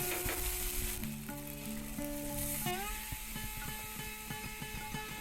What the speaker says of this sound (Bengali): একটুখানি জল দিয়ে আদা কষিয়ে নেব।